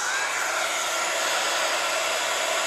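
Hot air from an embossing heat tool blows steadily over embossing powder on a leaf, a continuous close, loud whooshing roar with no talk.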